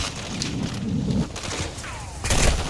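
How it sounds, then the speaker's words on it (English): Gunfire from a Call of Duty Warzone DMZ match, a dense continuous barrage of shots and thuds with a louder burst near the end, heard throughout with game noise. "Stop shooting me!"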